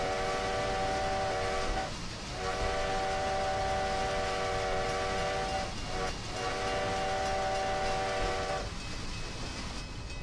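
A locomotive in the Trackside train-simulator game accelerates at full throttle with the reverser at 25, rushing past 40 mph. A loud, continuous engine roar carries a steady tonal drone that briefly dips twice, with no talking.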